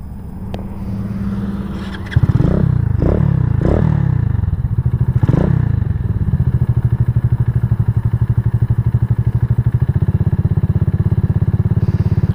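A KP Mini 150 motorcycle with a newly installed muffler idles close by at a low, uneven idle, with a steady thumping exhaust pulse after a few clattering revs at the start. No talking.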